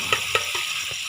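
Spices fry in a hot pan with oil while a spoon stirs them for a Safer chane dish, giving a steady bright sizzle broken by a few soft scraping stirs, close and with no talking.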